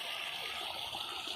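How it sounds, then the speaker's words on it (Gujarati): Water runs along a small irrigation channel on a farm, a faint, steady trickling and gurgling flow heard briefly on its own. "આ કેરામાં પાણી જાય છે"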